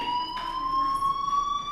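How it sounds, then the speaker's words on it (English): A fire alarm rings in the video game Life is Strange, a steady electronic tone held continuously at moderate level with faint background sounds, no speech. "Hey, do you hear that fire alarm?"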